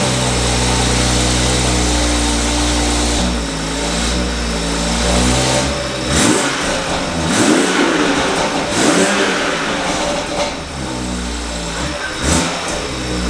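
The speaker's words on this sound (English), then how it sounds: "Let me do a few revs in neutral." A BMW B58 engine with an aftermarket intake revs in neutral, starting from a loud steady idle, then several sharp throttle blips rise and fall one after another, close and loud.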